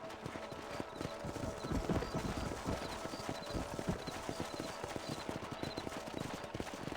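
Horse hooves clip-clopping at a steady trot while riding across a ranch property in the Red Dead Redemption video game, a dense, regular beat of hoof falls under faint background game ambience.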